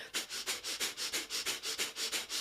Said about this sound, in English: Breath of fire is our panting breath, but through the nose.